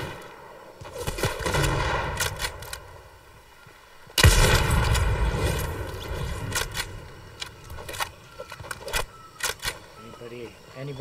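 Gunfire in a video game match, with scattered shots early, then a loud sharp burst followed by rapid repeated firing and clattering, mixed with players talking throughout.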